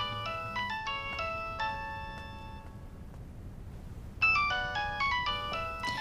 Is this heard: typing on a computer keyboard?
no